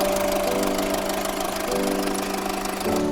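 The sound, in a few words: Mitsubishi Lancer GLXD diesel engine running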